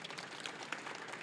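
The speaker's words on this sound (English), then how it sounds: "Give him a big round of applause." Audience applause at a live event, steady dense clapping from a crowd that stays fairly faint and distant for the whole moment, with no voices over it.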